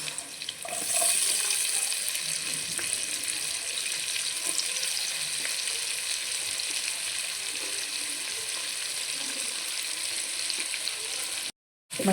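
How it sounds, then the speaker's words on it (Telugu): Thinly sliced onions fried in oil left over from frying fish for fish biryani, a steady loud sizzle hissing continuously, close up, with a brief cutout near the end. "ఫిష్ ఫ్రై చేసుకున్న ఆయిల్లోనే ఇవన్నీ వేసేసుకోవాలన్నమాట సన్నగా కట్ చేసుకున్న ఆనియన్స్"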